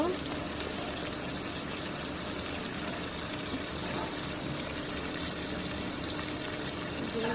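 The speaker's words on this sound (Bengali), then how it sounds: "এখন জল দিয়ে দিব" Water pours into a cooking pot for a rohu fish head and bean seed curry, making a steady, even rushing stream that holds for several seconds.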